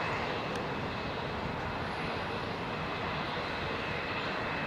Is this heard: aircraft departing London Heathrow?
yes